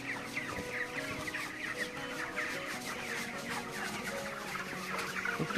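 A flock of chickens on a poultry farm clucks continuously nearby, overlapping calls forming a busy, steady chatter with no voices.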